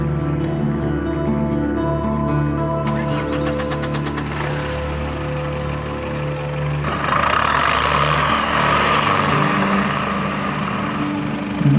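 A Tata Xenon pickup with an electronic diff and rear limited-slip differential drives off-road, its engine droning steadily with a low, constant hum that grows rougher and louder partway through, with no talk.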